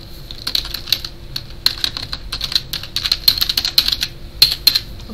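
A password is typed on a computer keyboard: rapid, uneven key clicks close to the microphone, continuous throughout with brief pauses.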